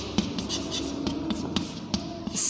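Chalk or marker scratches across a classroom board in short strokes and taps during a chemistry lesson, fairly close and clear.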